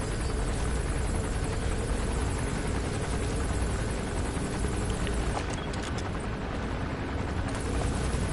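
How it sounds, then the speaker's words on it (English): Military helicopter from the Metal Gear Solid V video game flying on patrol, a steady broad rotor and engine roar that stays loud and constant throughout, with faint game ambience beneath. "Looks like the arms dealer's chopper is gonna patrol for the security forces"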